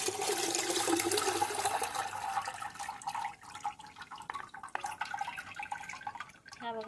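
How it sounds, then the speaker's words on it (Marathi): Water strained from soaked wheat pulp pours into a large pot, a continuous splashing trickle that gradually thins into scattered drips and splashes. "एका मोठ्या पातेल्यामध्ये संपूर्ण पाणी गाळून घेते"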